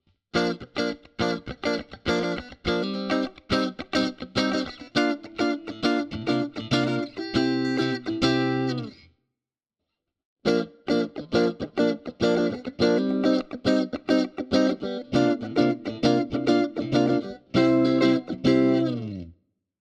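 An electric guitar plays a rhythmic series of distorted chords through a Fractal Audio modeler preset with its graphic EQ removed, stopping briefly and resuming. The tone is loud, bright and sounds somewhat boxy.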